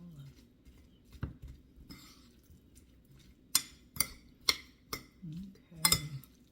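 Metal cutlery scraping and clinking against a bowl while bibimbap is mixed, a run of sharp knocks, loudest near the end, with a soft voice murmuring underneath.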